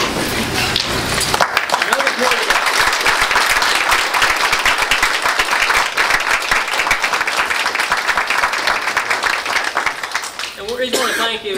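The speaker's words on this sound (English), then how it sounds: "please stand so we can give you a round of applause" Sustained applause from an audience honoring teachers and administrators at a school board gathering at Alleghany High School: dense, loud clapping that fills the room for about eleven seconds, then thins out near the end.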